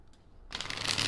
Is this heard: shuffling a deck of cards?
yes